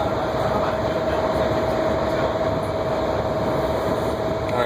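The Heathrow Express train in London runs at speed, heard from inside as a steady, loud rumble and rail roar with a constant high whine and no talking.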